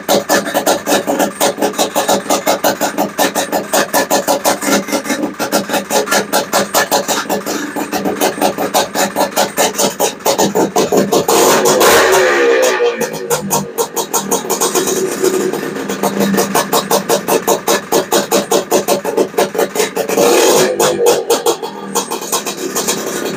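A Honda Odyssey FL350 with a Lectron carburetor idles steadily close by, its rapid firing pulses running evenly throughout, with a couple of brief blips where the engine rises and settles back to idle.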